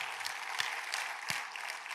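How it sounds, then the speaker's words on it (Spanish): A church congregation applauds during a sermon, a steady wash of many hands clapping, moderately loud and close, continuing evenly without talk over it. "Pero un aplauso a Jesús."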